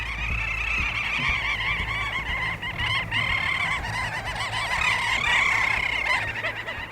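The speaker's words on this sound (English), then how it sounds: "These are little auks," A dense Arctic colony of little auks on Svalbard, countless small black-and-white seabirds calling at once in a continuous chattering, trilling chorus, loud and near, layered with overlapping shrill whirring calls throughout.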